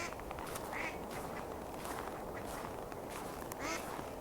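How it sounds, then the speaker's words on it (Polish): Ducks quack by a pond in a park on a frosty winter day, a few scattered calls at a moderate distance rising now and then over a soft, steady outdoor hiss. "Słyszysz głos kaczek?"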